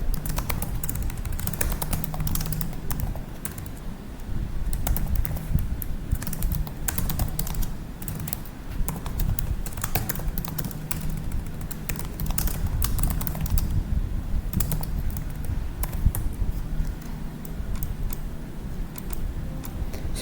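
Keywords are typed on a computer keyboard in a steady, fast patter of key clicks that runs without a break over a low background hum.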